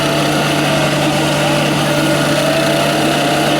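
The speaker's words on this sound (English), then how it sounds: "So there's an art even to how you use that blower." A blower roars steadily and loudly close by as a pool's plaster surface is finished, a constant motor drone with no pauses.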